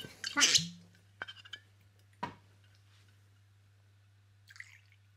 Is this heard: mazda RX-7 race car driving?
no